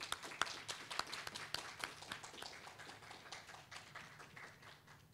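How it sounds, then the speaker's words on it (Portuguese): Faint, distant applause from an audience welcoming a professor from a university's social communication department. Steady clapping with no voices. "Vamos aplaudi-lo"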